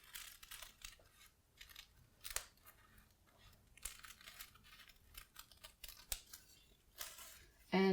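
Scissors cutting through layered tissue paper for a Polish paper chandelier, repeated crisp snipping and papery rustles in an irregular rhythm, close and fairly quiet.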